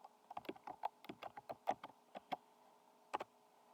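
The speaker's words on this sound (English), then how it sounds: "Type the password you chose before." Keys clack on a computer keyboard as a password is entered during a Linux installation, a quick burst of crisp close taps, then a short pause and two final strokes.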